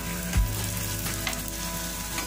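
Aloo tikki, burger-style potato patties, fry in a pan with a steady broadband sizzle after flipping, a brief low thump near the start as a patty turns over, then even crackling alone.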